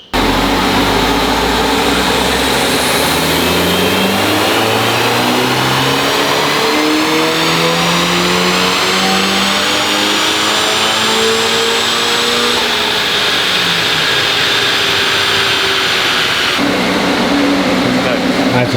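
A Honda Civic Type R engine on a dyno during intercooler testing revs hard through rising, sweeping pulls, loud and continuous, with the pitch climbing steadily before easing off near the end.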